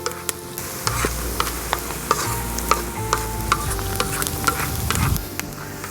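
Onion browning in a pan over an open campfire outdoors, a steady close sizzle broken by frequent sharp ticks and scrapes of stirring, with no talking.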